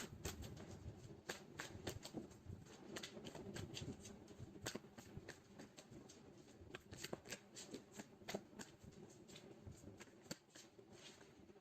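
A deck of tarot cards shuffled steadily and close up, a dense run of quick papery riffles and flicks with soft taps, continuing without pause and no talking.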